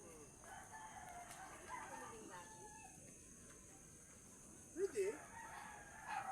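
A rooster crows faintly in the distance over a quiet outdoor background, with a short louder burst near the end.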